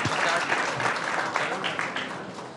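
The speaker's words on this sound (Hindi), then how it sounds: "एक बार फिर से जरा जोरदार तालियां हो जाए।" Audience applause at a News18 India Chaupal televised public event welcoming Himachal Pradesh CM Sukhwinder Singh Sukhu: dense, steady clapping from a crowd, loud and sustained throughout, with faint voices mixed in.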